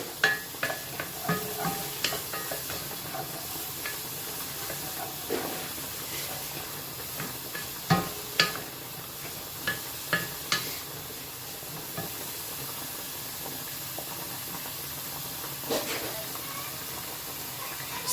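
Onions and garlic sizzle and hiss in a hot pan while being stirred, with scraping clicks of the utensil recurring throughout at close range; a person talks over the cooking.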